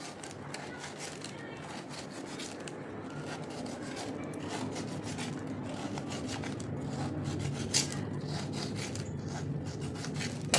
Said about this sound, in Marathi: तर आता ही कैरी आपल्याला बारीक कापून घ्यायची